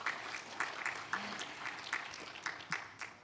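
Applause from an audience at a G20 side event on a national financing framework, sparse and fairly faint, with scattered individual claps in an irregular patter and no talk over it.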